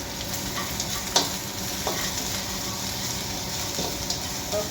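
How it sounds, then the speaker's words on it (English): Vegetables including cabbage stir-frying for Schezwan fried rice, a loud continuous sizzle up close with a few light clinks and stirs of a spatula in the pan. "Just give it a quick stir."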